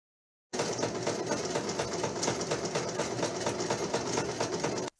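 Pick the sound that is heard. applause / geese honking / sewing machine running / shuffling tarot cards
sewing machine running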